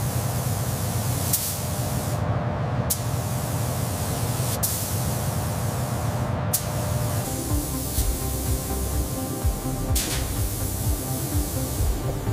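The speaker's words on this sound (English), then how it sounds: "The RAV4 rotates on the turntable as synchronized robotic arms deliver a uniform coat of primer, achieving complete coverage in the automated booth." Robotic arms spray primer onto a Toyota RAV4 in an automated paint booth, a continuous loud hiss of spray with a few sharp bursts over steady industrial noise.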